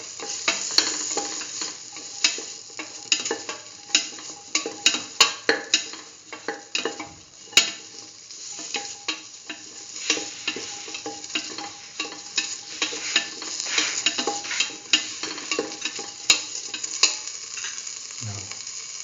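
Marinated cauliflower and chayote are stirred and fried in a pan, with a long run of close, irregular scraping and clinking spoon strokes over a soft continuous sizzle, ending with a brief low thump.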